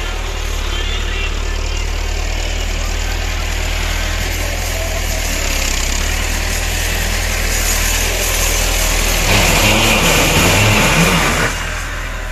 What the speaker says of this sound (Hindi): ट्रैक्टर का शोर भी आ रहा होगा, उसको थोड़ा आपने इग्नोर करना है।